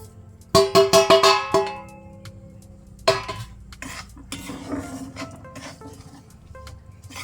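Green mung beans roast in ghee in a pan, with a quick burst of sharp metallic clanks from a spoon hitting the pan, then steady scraping stirs and light sizzling, close and clear.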